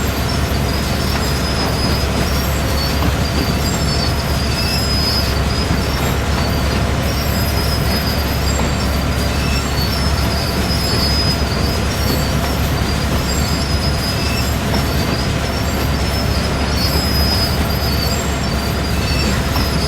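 A US diesel freight locomotive running in the Train Sim World 4 game gives a steady, loud engine rumble mixed with rolling wheel and rail noise and occasional high squeals, continuous and without talk.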